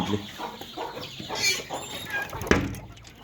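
Free-range village hens clucking inside a poultry room, several soft close clucks and murmurs with a sharper squawk near the end, no talking.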